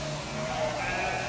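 Sheep bleating inside a barn on a farm running about 500 sheep, long wavering calls overlapping against a steady background murmur of the flock.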